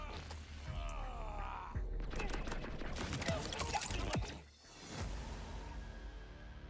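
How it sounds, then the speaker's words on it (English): Fully automatic shotgun in the Borderlands 4 video game, rapid bursts of booming shots ripping out in a dense volley, then a brief lull before more scattered blasts. "Fully automatic shotgun? No, thank you."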